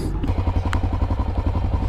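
Honda XR650L motorcycle riding off-road, a close, loud, steady thumping single-cylinder engine pulse with a brief clatter partway through.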